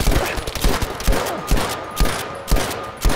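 Machine gun fire from an elevated position in Battlefield V, rapid bursts of loud gunshots with sharp repeated cracks and heavier booming reports spaced through the clip, close and intense.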